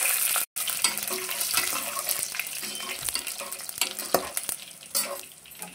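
Dried red chillies, about ten, frying in hot oil in a pan, a steady close sizzle with stirring scrapes throughout, briefly cut off near the start.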